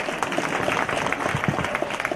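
An audience at a motivational speech bursts into sustained applause, dense clapping filling the hall throughout with a faint murmur of voices mixed in.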